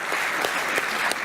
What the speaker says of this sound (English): let's a big round of applause for Deborah Morris-Travers.